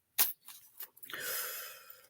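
A deck of tarot cards shuffled by hand at close range: a sharp snap, a few quick soft riffles, then a longer papery ruffle.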